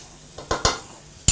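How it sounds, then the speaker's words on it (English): Butter being stirred in a pan over reduced heat while preparing kedgeree: a few soft scraping clicks of a utensil against the pan over a faint sizzle, close and brief, with no talking. "So good stir, make sure the butter is everywhere."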